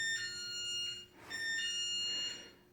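A home burglar alarm sounding in a workshop, with two long electronic beeping bursts separated by a brief dip, fairly faint and steady, with no speech.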